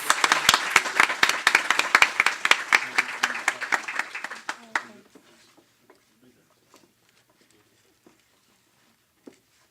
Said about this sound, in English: Can we have a round of applause for our winners?